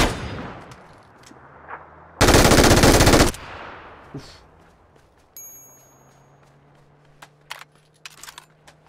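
Bursts of MG3 machine gun fire in the shooter game PUBG: one long, loud, sustained burst dominates the middle, with scattered shorter shots and distant gunfire around it and no talk.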